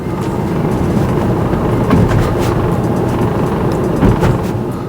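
Steady low rumble of road noise inside a Tesla Model Y while driving, a broad continuous roar with faint periodic thumps from the tires, constant and fairly loud throughout with no talking.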